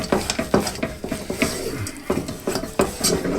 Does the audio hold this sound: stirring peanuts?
yes